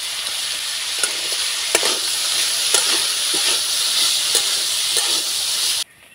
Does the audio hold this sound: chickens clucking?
no